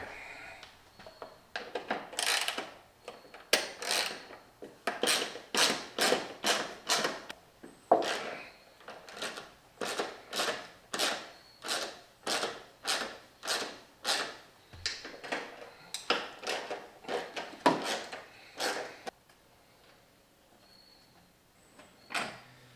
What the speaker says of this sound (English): we just need to get a socket and take those out real quick